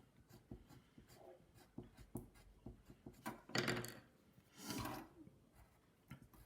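Pencil or marker drawing a bee on paper, with scratchy, rubbing strokes in short bursts that grow louder toward the middle, close and fairly quiet.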